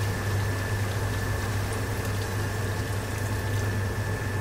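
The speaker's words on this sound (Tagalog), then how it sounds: "Lagyan natin ng vinegar." Vinegar streams into a pot of dinuguan, the Filipino pork blood stew, making a steady, even liquid rush with a faint hum underneath, close and continuous with no talking.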